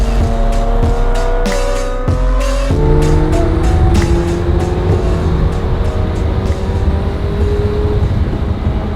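A McLaren 720S supercar drives with a loud, close engine roar that rises and shifts through gears, accompanied by tire noise and brief squeals.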